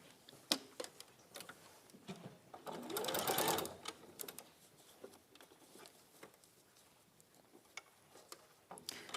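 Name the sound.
sewing machine stitching a row of fabric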